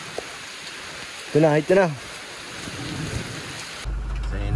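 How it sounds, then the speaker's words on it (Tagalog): Steady rain falls in a rural farm area in moderate, even hiss throughout, with a brief voice speaking midway and a louder low rumble near the end. "Dito, hindi siya gaano malakas ang ulan."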